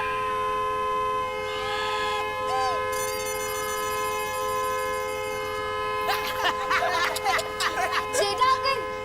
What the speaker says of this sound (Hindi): जेठा अंकल, ये हॉर्न बंद करवा दीजिए ना।